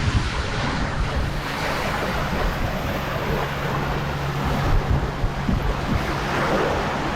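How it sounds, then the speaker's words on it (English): Steady wash of waves breaking on the beach at a Maldives resort, with wind buffeting the microphone, loud and continuous with no talking. "Let's see what our beach is like."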